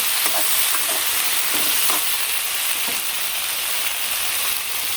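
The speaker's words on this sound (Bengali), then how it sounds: "কাঁচামরিচ আর পটল দিয়ে দিই।" Pointed gourd and green chillies frying with potatoes in a pan, a loud continuous sizzle close up with a few stirring scrapes and knocks of the utensil.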